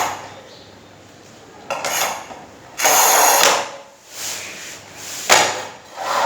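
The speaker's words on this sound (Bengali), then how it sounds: "এই যে দেখুন কাইটা ফেলাইলাম রেজাল্ট কাটিং মেশিন দিয়ে টাইলস" Ceramic tiles are cut on a manual tile cutting machine. Loud, close rasping scrapes come in short bursts with quiet gaps between them, and a sharp knock is heard near the end.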